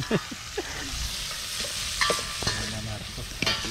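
Steady crackling sizzle of fish frying in a pan, with scattered clinks and scrapes of stirring and a few brief voice fragments.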